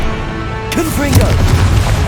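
Confringo blasting spell in the video game Hogwarts Legacy erupts in a loud boom and crackling burst, with a voice shouting over the rumbling battle noise.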